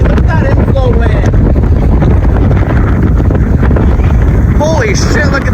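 Strong inflow wind rushes near a tornado, loud and constant, roaring and buffeting the microphone. Excited voices exclaim over it.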